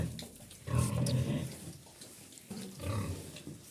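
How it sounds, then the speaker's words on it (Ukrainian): Piglets fight and squeal on a farm, close and fairly faint, in two scuffling bursts of grunts and squeals with quiet shuffling between. "Вон б'ються поросяти"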